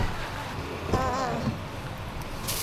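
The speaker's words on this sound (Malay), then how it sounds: "Dah hujan lebat." Heavy rain hisses steadily in a broadband wash during a motorcycle ride toward Cameron Highland, with a brief voice-like murmur near the middle and a gusty burst at the end.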